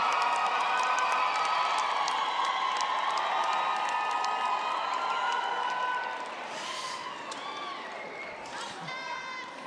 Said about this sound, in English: give them a warm hand of applause for their contribution to bring you here this afternoon